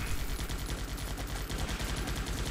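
Rapid bursts of gunfire from a bunker defence in the Guns Up video game, a dense, continuous rattle of overlapping shots at steady loudness with no talk.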